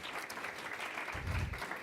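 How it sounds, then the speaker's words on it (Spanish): An audience applauds its panelists at an evening church talk, a steady wash of many hands clapping, moderately loud and unbroken, with a brief low thump partway through. "Vamos a darle un aplauso a ellos."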